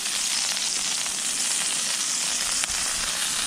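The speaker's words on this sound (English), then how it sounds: "peppers and onions are sauteing in the non-stick pan" Peppers and onions sizzle steadily in a non-stick skillet on a camp stove at a winter off-grid camp, a close, continuous frying hiss with no voices.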